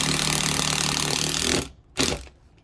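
Power drill driving screws into the floor of a Winnebago RV slide-out room, a steady buzzing whir that stops, then a short second burst, close by with no talking.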